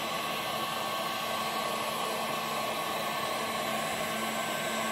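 Heat gun with a replaceable tip warming a chainsaw case to free its bearings, giving a steady, loud, unbroken whooshing blower hum from start to finish, with no one talking.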